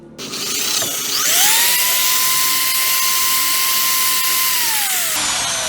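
A power drill bores a hole in a soft ring, spinning up into a loud, steady high-pitched whine that holds for several seconds before winding down.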